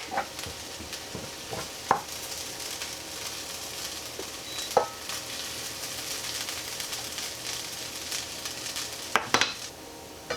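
Pre-cooked hash browns seasoned with garlic salt and pink Himalayan salt fry steadily in a pan, giving a soft continuous sizzle with occasional spatula taps and scrapes, close and fairly quiet.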